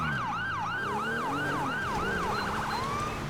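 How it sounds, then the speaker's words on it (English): A loud emergency-vehicle siren wails steadily in the Infinite Life RP video game, rising and falling in a regular cycle before briefly switching to a faster yelp, with a faint engine rumble underneath. "We're gonna shut our siren off."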